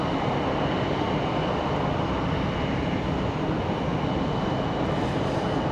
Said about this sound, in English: Got a Southwest coming at us, Southwest 1481, headed to Bewee